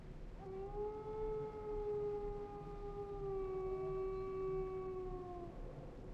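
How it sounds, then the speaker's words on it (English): A wolf howls in the Baldur's Gate 2 video game, one long sustained wavering howl with layered tones lasting several seconds, clear and alone over a low ambient hum. "Was that a wolf?"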